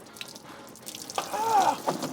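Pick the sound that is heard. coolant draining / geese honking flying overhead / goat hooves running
coolant draining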